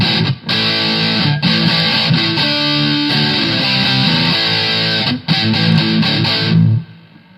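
Electric guitar played through a Boss MT2 heavy distortion model, with thick saturated chords and riffs and brief gaps between phrases, ringing out loud and then fading at the end.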